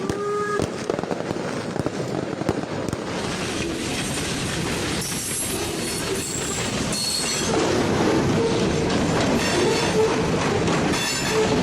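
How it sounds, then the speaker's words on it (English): The last remaining train of the Fichtelberg Railway in Germany, a continuous loud rumble of rolling wagons with sharp squealing wheels and crackling bursts throughout, growing slightly louder toward the end. "Captured here is the last remaining train of the Fichtelberg Railway in Germany"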